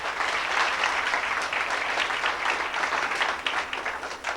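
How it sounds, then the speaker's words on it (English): Applause from the audience at a 25th class reunion, a steady crowd of hands clapping at moderate volume, sustained throughout with slight swells and no voices on top. "how about a round of applause for Susan?"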